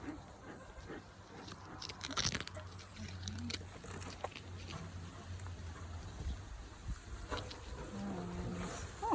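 Many honeybees buzz steadily close by as their hive is opened and smoked, with scattered clicks and rustling and a few louder drones passing near.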